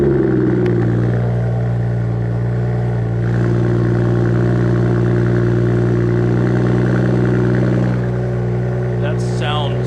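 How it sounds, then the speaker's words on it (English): A Toyota Supra engine with a custom HKS carbon titanium exhaust turns over and settles into a loud, deep, steady idle, rumbling close by, with a voice briefly heard near the end. "let's go ahead and start the car for the first time"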